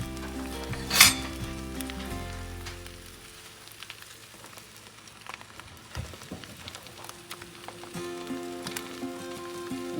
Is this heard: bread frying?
yes